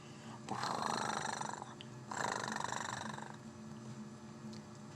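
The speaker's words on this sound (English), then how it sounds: "they close their eyes and purr" A cat purring up close, two rumbling swells with a brief pause between them, soft and steady with no talking.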